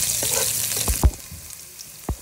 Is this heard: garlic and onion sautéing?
yes